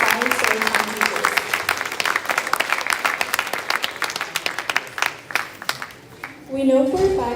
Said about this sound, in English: Please give a huge round of applause for these hardworking students, their amazing parents, and their inspiring storytelling teachers.